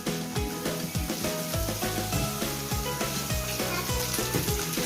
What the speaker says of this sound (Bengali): আপনারাও মশলাটাকে ভালো করে ভেজে নেবেন যাতে জিরা আর আদার কাঁচা গন্ধটা না থাকে